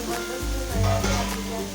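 Hot oil tempering sizzles in a pan after a spoonful of chili powder goes in, a close, steady crackling hiss with a brief louder burst.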